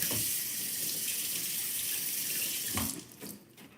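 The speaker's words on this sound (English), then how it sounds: "let me wash my hands" Tap water runs steadily into a kitchen sink during hand washing before cooking Cornish hens, a continuous close splashing that cuts off near the end, leaving a faint room tail.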